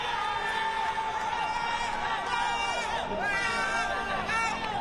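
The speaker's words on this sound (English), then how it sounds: "Crowd making plenty of noise ahead of this one" A stadium crowd at a para athletics race chatters, whoops and cheers in a dense, loud babble, with individual voices rising out of the din.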